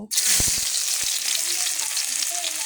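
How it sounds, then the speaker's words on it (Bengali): Onions frying in hot oil in a wok, a loud continuous hissing sizzle with a few low knocks near the start, close and steady throughout. "তো ফিরে আসছি পেঁয়াজটা বাদামি করে ভেজে আসার পরে"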